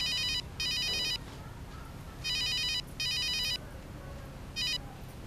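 An incoming call sets off a mobile phone ringtone, a loud, near electronic melody that plays in repeated bursts with short pauses between them.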